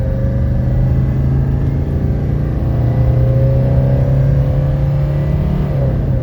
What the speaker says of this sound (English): You can see we're accelerating uphill here.